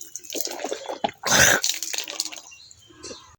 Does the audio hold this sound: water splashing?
yes